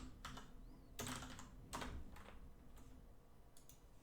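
Java code is typed on a computer keyboard: a few quick clusters of key clicks, close and quiet, over faint room hiss with no talk.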